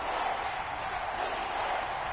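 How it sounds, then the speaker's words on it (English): Steady crowd roar filling a football stadium ahead of a big third down, a continuous broadband wash of cheering with no breaks. "The crowd getting into it as we come up on a big 3rd down."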